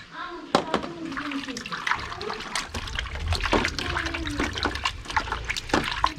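Water trickles and splashes close by as something is washed before kebab is cooked outdoors over coconut-shell embers. The water runs steadily with intermittent louder splashes, and a voice talks now and then.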